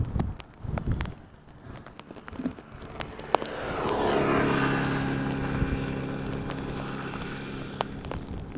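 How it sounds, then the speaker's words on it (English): A KLM Boeing 787-8 arrives at Amsterdam Schiphol in gusty post-storm crosswinds, its faint, distant engine rumble swelling steadily out of wind noise and then holding as a broad, low roar with a soft tonal whine. "KLM B788 arriving from Southampton up next"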